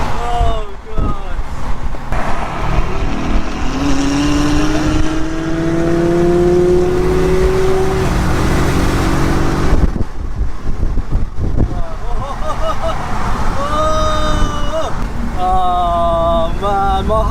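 An Audi S4 racing at full throttle roars loudly as its engine rises and falls through several revving pulls, with heavy wind buffeting and brief voices mixed in.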